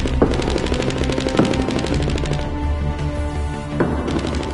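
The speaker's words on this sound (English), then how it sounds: "So this gun is a rifle in my hand." Rapid automatic rifle fire in Fortnite Save the World rattles in loud, dense bursts, with a couple of sharper single shots punctuating the stream. Close and punchy, with no talking over it.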